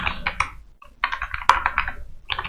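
Quick bursts of clicking keystrokes on a computer keyboard while a terminal command is typed for a Laravel install on Ubuntu, close and clear, in short irregular runs with a brief pause.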